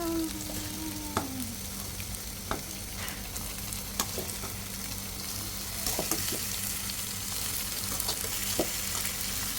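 Chicken frying in hot coconut oil in a clay pot, a steady close sizzle with scattered sharp crackles and pops running throughout, no talking.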